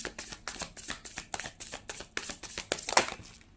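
A tarot deck being shuffled by hand, with a quick, steady run of crisp card riffles and flutters close by, roughly a dozen soft bursts with no talking.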